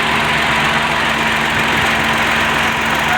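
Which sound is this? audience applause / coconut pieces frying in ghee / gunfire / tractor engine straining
tractor engine straining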